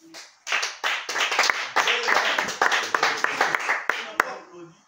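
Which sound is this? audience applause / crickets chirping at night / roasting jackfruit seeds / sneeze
audience applause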